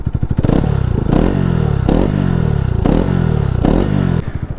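A Bajaj Pulsar RS 200 BS6 motorcycle with a slightly modified exhaust is revved up close, with a loud throbbing idle and several repeated blips of throttle, and no talk.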